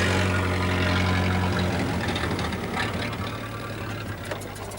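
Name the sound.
vintage car engine ticking over at low revs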